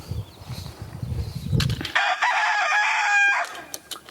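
Backyard chickens cluck and fuss close by while foraging outdoors, with a longer crowing call breaking out loudly near the end.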